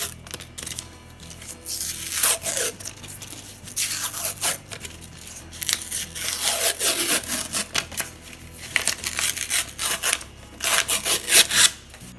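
Paper label being peeled and torn off a refrigerated cinnamon roll can in a home kitchen, a series of close scraping, ripping rubs that come in bursts over about twelve seconds, with no talking.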